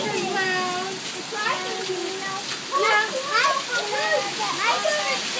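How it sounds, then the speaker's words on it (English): Heavy rain pours as a dense steady hiss during a rainstorm, loud and continuous beneath children talking excitedly nearby. "look at that rain."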